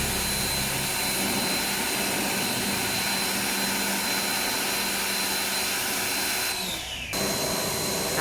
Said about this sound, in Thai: ช่างจัดการฉีดล้างความสะอาดแผงแอร์หน้ารถให้ค่ะ